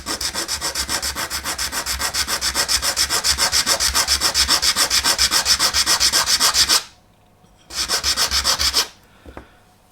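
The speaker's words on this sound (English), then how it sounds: "If you've got a really coarse grain flat sanding file, that will also work" Rapid rhythmic back-and-forth rasping of a coarse flat sanding file on wood, loud and close, stopping briefly before one more short burst of strokes.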